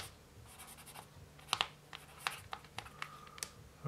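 Camel HB pencil scratching on paper in short, irregular strokes and taps, close and quiet against a faint background hum.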